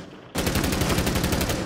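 A sudden burst of rapid machine-gun fire in a video game kicks in after a quiet moment and rattles on loudly and evenly until the end.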